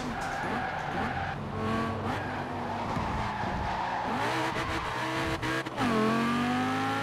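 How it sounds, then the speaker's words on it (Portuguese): A Lamborghini skids on snowy roads in Forza Horizon 4, its tires squealing at length over a steady engine drone, with a sharper squeal near the end. "Agora aqui é só acelerar, mano. Não tem segredo."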